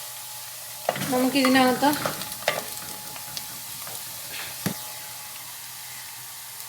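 Tender jackfruit roasting in a pan, a soft background sizzle with a few scraping stirs, as someone speaks briefly near the start.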